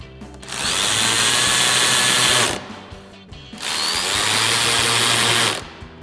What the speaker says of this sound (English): Now we'll bring back our 7mm socket and get these installed.